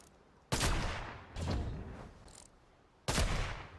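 Sniper rifle shots fired at bots in a shooting video game, three loud sharp reports with echoing tails, the first two about a second apart and a third after a longer pause.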